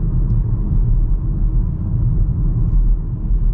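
Steady low road rumble from inside a 2024 VW Taos rolling over bumps and manhole covers, a continuous muffled drone with slight swells and no talk.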